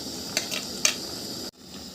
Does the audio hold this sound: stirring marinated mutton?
yes